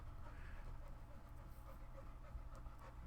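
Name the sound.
dog panting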